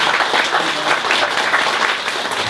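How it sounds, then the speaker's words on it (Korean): A hall audience at a career talk concert claps steadily to welcome a hanger designer to the stage, a loud, even patter of many hands that carries through the whole short stretch. "박수로 환영해 주시죠"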